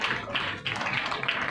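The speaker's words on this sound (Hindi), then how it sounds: "इनके लिए जोरदार तालियां" Applause from an audience at a women's forum medical event, a dense, steady wash of clapping throughout, moderately distant.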